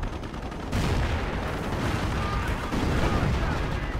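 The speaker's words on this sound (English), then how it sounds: "More artillery." Artillery barrages in Company of Heroes land as a continuous roar of booms and crackling blasts, loud and dense, with a voice talking briefly over the battle.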